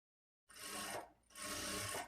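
A sewing machine stitches along a blouse lining in two quick whirring runs with a brief pause between them, close and clear after a moment of silence.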